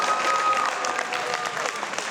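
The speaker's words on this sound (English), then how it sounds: "Round of applause for this group, guys." High school students and staff give a round of applause at a student council gathering: dense, sustained clapping from a sizeable crowd, heard close and steady throughout, with a few voices mixed in.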